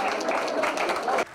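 Crowd applause greets Justice Iván Saquicela, president of Ecuador's National Court of Justice, as he walks through an honor line; steady dense clapping with a narrator's voice over it, cutting off abruptly near the end.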